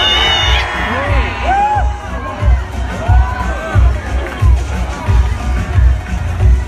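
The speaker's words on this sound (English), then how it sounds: "One more time, who are you guys cheering for tonight?" A large audience at the Miss Universe 2017 national costume show cheers, whoops and shouts in rolling bursts, loud and reverberant, with high squeals rising over the roar of the crowd.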